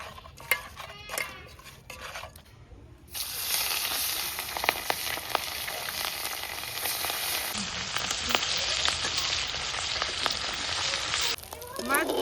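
Pabda fish frying in hot oil gives a steady, close hissing sizzle that swells louder midway, with occasional utensil scrapes and clinks against the pan in a village kitchen.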